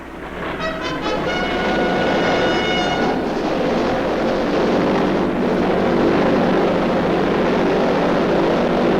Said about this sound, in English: Plane after plane.